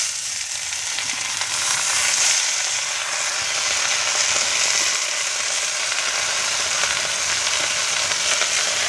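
Jute leaves frying with onions in a pan, a steady close hiss and crackle that holds level without pause.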